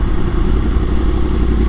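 A sport motorcycle engine drones steadily and loudly up close, a constant rough rumble with no speech over it.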